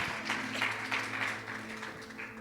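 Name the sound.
applause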